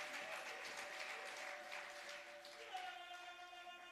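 A church congregation applauds steadily throughout, a dense, continuous wash of clapping in a reverberant room, with music tones sustained underneath.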